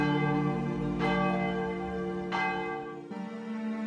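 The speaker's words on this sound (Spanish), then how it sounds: "Lo curioso del caso es que ninguna hermana reconoce que tocó las campanas." Monastery church bells ring close and resonant, with two clear strikes whose long metallic hum sustains between them.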